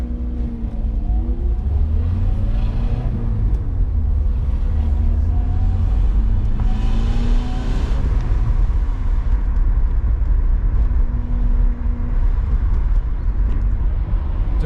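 A BMW E30 being driven on the road to its MOT after three years off the road, its engine a steady, loud rumble with rising and falling tones as it pulls along, continuous throughout with no talking.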